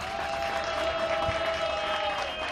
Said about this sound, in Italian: Evo, to je već bio aplauz